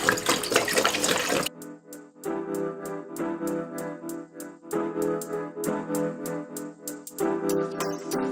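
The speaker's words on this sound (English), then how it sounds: "we're going to go ahead and add water to our pan." Water gushes briefly into a cooking pan for boiling spaghetti, then gives way to rhythmic background music with steady ticking beats.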